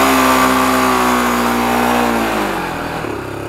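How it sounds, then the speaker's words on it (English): A Honda 300EX quad doing a burnout, its engine revving hard in a loud sustained whine as the rear tire spins, then dropping off and winding down near the end. "And there's a burnout."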